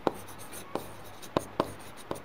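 Pen or chalk writing during a class 8 geometry lesson, about five short scratchy strokes at irregular intervals, close and fairly quiet against a faint room hum.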